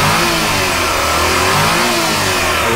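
A Suzuki Every Wagon mini van engine revs loudly up close, a steady rising and falling drone of mid-pitched engine roar with no talk over it.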